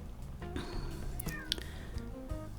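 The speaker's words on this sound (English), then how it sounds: "Oh, did you hear that? That's my kitty." A cat meows a few times nearby, quiet and short, over a soft background hum.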